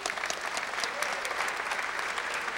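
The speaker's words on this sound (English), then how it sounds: "All right, applause." An audience at a Softimage user group event at SIGGRAPH 1999 breaks into applause, a dense, even wash of many hands clapping throughout, fairly loud and close.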